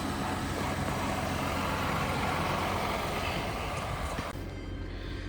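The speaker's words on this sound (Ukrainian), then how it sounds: "але так от двигун працює адекватно." An Audi engine idling during a pre-purchase inspection, a steady continuous low rumble with broadband hiss, fairly loud and unbroken, dropping slightly in level near the end with no speech.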